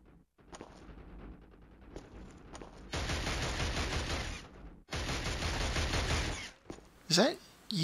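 Sustained automatic gunfire in the shooter game Killzone HD, long loud bursts of rapid shots broken by short pauses, with a sharp final burst near the end.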